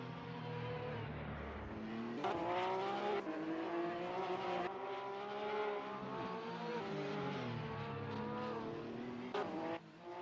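Porsche 911 GT3R race cars at the Hungaroring in a racing video game, engines revving and shifting through gears in a steady high-pitched drone, with brief tire squeals, heard alone with no talk.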